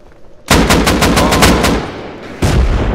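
Rapid automatic gunfire in the survival game Rust during a raid, a loud close burst of about nine shots in quick rhythm, then a pause and one more blast.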